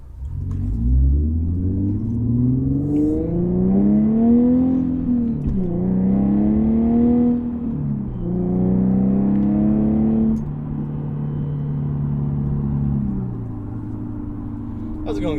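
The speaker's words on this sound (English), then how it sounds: "G37s with factory headers, Fast Intentions resonated high flow cats, and a Motordyne exhaust." An Infiniti G37s with factory headers, Fast Intentions resonated high-flow cats and a Motordyne exhaust revs repeatedly, its deep exhaust note rising and falling through several loud, close throttle sweeps with a steady droning rumble between them.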